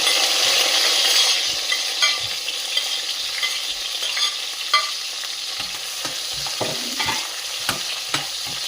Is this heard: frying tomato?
yes